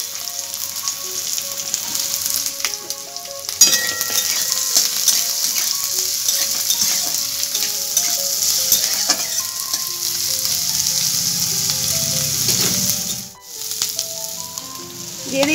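Chopped onion frying in oil with dry red chillies and curry leaves, a steady loud sizzle crackling throughout, with background music playing over it.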